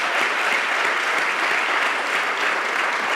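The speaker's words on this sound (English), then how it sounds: "that's a round of applause" Dense, steady applause from a school event audience fills the space, a continuous wash of many hands clapping at even strength throughout.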